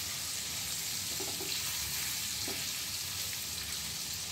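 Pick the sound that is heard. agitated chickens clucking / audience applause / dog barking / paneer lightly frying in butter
paneer lightly frying in butter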